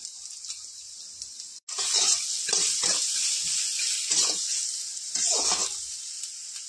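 Radish greens are stirred in a hot pan. A sudden loud sizzling hiss starts after a brief quiet moment and continues steadily, broken by repeated scraping bursts from the stirring.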